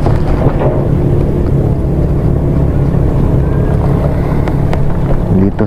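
The engine of a motorized outrigger boat (bangka) drones steadily and loudly during a sea crossing to Leyte, mixed with wind buffeting the microphone and water noise, with no clear speech.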